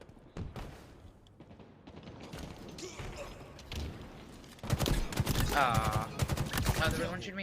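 Gunfire in a competitive shooter video game during a tournament, with sharp shots and a burst of rapid automatic fire later on, louder over steady game noise and mechanical clatter.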